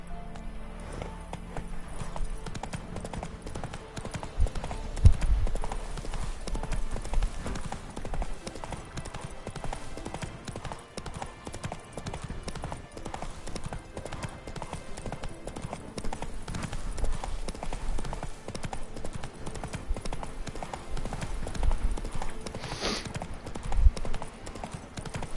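A horse gallops in the video game Witcher 3, with a rapid, continuous clip-clop of hooves running throughout, steady and fairly close, with occasional heavier thuds over a rumbling game background.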